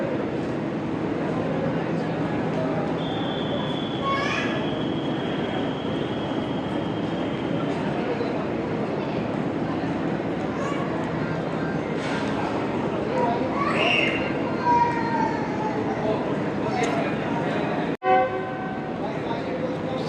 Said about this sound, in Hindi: Whistle for departure from both sides